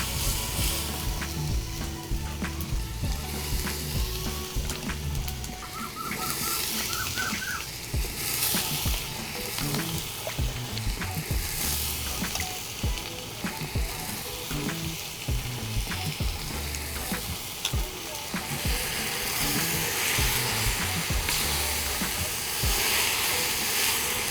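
Sliced eggplant frying with softened tomatoes in a pan for a Tamil kathirikai kulambu, a steady close sizzle and crackle with occasional stirring clatter, heard alone without talk.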